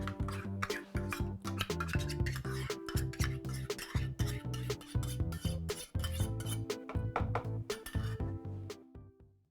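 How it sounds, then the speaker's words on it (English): A spoon scrapes and clinks briskly against a bowl as sour cream is stirred into cream cheese, a dense run of rhythmic rasping strokes that stops abruptly at the end. "Then we're going to stir in our 1 cup of sour cream."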